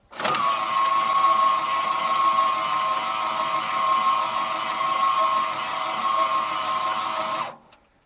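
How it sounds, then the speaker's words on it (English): Electric landing jack motor lifting a fifth wheel trailer whines in a steady, loud mechanical hum for about seven seconds, then stops abruptly, without speech. "It's going up. It's going to draw all the juice when it lifts the weight of the fifth wheel."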